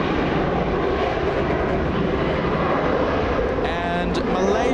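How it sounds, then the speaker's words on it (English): A four-engined Boeing 747-400 airliner, once owned by Malaysian Airlines, rumbles at LAX in a steady, fairly loud engine roar, with brief voice-like sounds near the end. "We have a quadjet 747-400."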